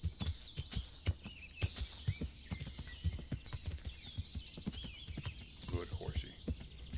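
Horse hooves clip-clopping in the medieval video game Kingdom Come: Deliverance, a steady rhythmic series of close, sharp hoofbeats over ambient background, with a voice speaking briefly.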